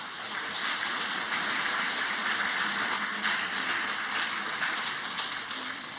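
A congregation at Sunday worship in Bucheon Jisan Church gives a blessing round of applause for two church members. The clapping is soft, steady and continuous, with a fairly distant, roomy wash and no voices over it.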